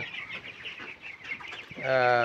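Many broiler chickens cluck and murmur together in a continuous busy chorus, ending with one louder drawn-out call up close.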